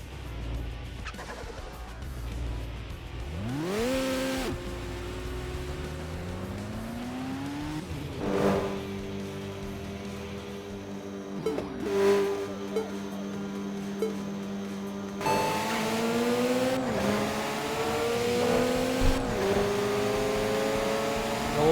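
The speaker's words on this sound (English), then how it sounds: "It's drifting. We call it drifting." A video game car engine revs and slides through drifts, pitch sweeping up and down with rising and falling tones and squealing edges, steady and fairly loud for the whole stretch with no voices.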